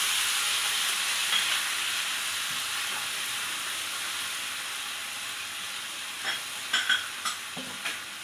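Chopped onions fry in a pan for kadhi with a continuous soft sizzle that stays steady, then a few quiet clinks and stirring knocks of a utensil near the end.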